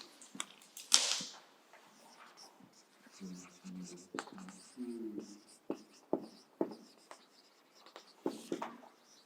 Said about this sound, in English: Let me write it down for you.